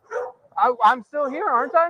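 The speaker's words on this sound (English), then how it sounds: "you can hear these dogs in the background just barking" Several loose pit bulls bark, with one whining in short yelping bursts, while someone speaks over it nearby.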